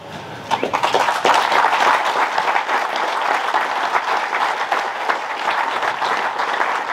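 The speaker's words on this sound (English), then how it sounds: "let everybody give you a round of applause" Sustained audience applause for board members standing at a gathering, dense steady clapping from a crowd throughout, fairly loud and close, with no talking over it.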